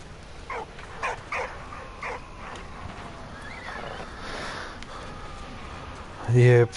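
A dog barks a few times in the Valiant Hearts video game, short sharp yelps spread over game sound and music, with a louder burst near the end.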